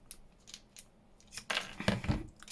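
Scissors snip through thread on paperclip bead dangles, a few quiet clicks followed by a louder cluster of sharp close-up cuts.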